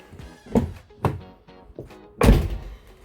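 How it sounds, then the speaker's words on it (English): Door locks on a Ford Transit Connect van clunk when triggered from the key fob, giving several dull, close thunks at irregular intervals, the last one loudest and longest. "So what we should be able to do is press the button on the key and we hear a lock"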